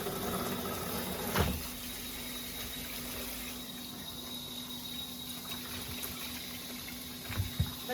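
Cold water runs continuously from a tap in a steady, moderate stream, with a couple of brief knocks and clatters along the way.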